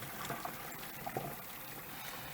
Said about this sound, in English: I take some of the cold water inside.